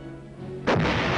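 An artillery gun fires once with a single loud, sharp blast, which then rumbles on and fades.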